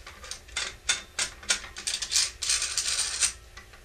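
A bolt is screwed into the equatorial head of a Celestron CGEM telescope tripod, making a run of sharp metallic clicks and ratcheting scrapes in uneven bursts, close up and with no voices.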